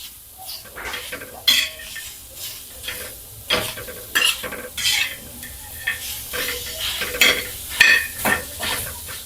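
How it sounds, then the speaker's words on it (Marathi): Onions are stirred and roasted on a hot iron griddle while cooking stuffed brinjal at home, with repeated scraping and clinking of a spatula over a soft, steady sizzle. "आपला तवा गरम झालाय तर इथे कांदे घालूया। तर कांदे आपल्याला लालसर भाजून घ्यायचे आहे।"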